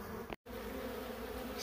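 Honey bees swarm around a trap-out box during a bee removal, a dense continuous buzz close to the microphone with a brief dropout near the start, otherwise steady throughout.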